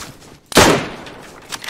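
A single loud gunshot from a video game gun bursts out sharply, then decays, with a couple of fainter shots trailing after it.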